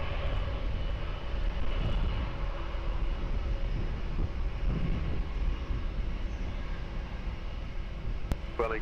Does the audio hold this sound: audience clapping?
no